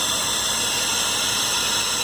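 Mercedes M104 24V engine idling poorly up close, a steady hissing wash of noise over a faint uneven low rumble, with no voices.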